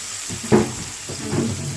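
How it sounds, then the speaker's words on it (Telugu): Tomato and onion frying in oil for a cabbage egg fry, with a soft continuous sizzle and a couple of louder stirring scrapes close by. "ఈ ఆయిల్లో అయితే టమాటాను ఆనియన్ అయితే వేసుకొని ఫ్రై చేసుకున్నాం అండి బాగా"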